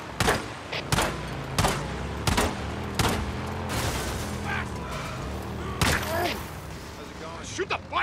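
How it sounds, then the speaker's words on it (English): Gunfire in the video game Days Gone: loud single shots ring out roughly every second, separate and sharp, with game voices and vehicle noise between them and a few scattered shots near the end. "Shoot the bike, Deke!"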